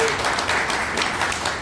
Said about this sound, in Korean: 한번 박수 드릴까요?